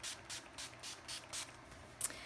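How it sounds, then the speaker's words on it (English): Urban Decay All-Nighter setting spray misted onto a face: six short, soft hissing pumps in an even rhythm, close and quiet, followed by a brief sharper click at the end. "I'm going to set my face with the Urban Decay All-Nighter Spray."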